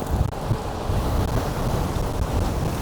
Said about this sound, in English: We are into the wind.